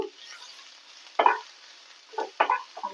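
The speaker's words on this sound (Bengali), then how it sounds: "এই যে কড়াই পেঁয়াজটা দিয়ে দিলাম এবার এটাকে একটু" Onion being stirred in a wok, a few short scraping stirs and faint sizzling over quiet background, close and soft.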